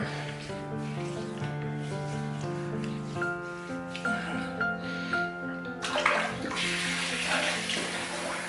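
Tap water runs steadily to re-wet a 22mm shaving brush, a soft continuous splash under a low hum, changing tone partway through as the flow shifts, with no talking.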